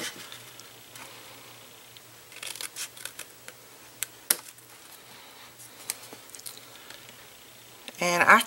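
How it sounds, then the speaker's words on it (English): Scissors snip notches out of a paper favor box, a few quiet scattered clicks and crisp cuts close by, with a louder burst of paper handling at the end. "I cut out the whole score line"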